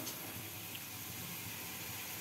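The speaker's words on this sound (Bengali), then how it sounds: "এবার একটু জল দিয়ে দিচ্ছি, একদমই জল দিয়ে দিলাম।" Water poured into a rui fish curry in the pan, a soft steady splashing stream, faint and close, with no voices.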